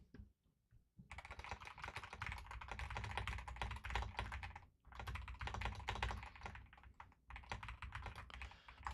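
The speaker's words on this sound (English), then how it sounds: "Apologies for the keyboard sounds." Rapid computer keyboard typing, dense and close, in bursts of clicking separated by short pauses, with no talking over it.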